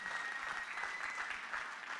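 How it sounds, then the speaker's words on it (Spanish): Church congregation applauding the Lord after a call for loud praise, a steady, dense wash of clapping heard at moderate distance and fairly quiet, with no speech over it. "Vamos a darle otro fuerte aplauso"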